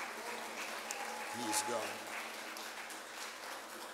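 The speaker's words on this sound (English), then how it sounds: "Somebody just give the Lord a hand clap of praise today" Congregation clapping hands in praise at a memorial celebration of life service, a steady wash of applause running throughout while someone speaks over it.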